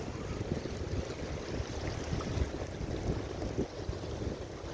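Sand and water from a dredging operation flowing down a trench outdoors in snowy weather, a steady low rushing wash with some buffeting, no voices.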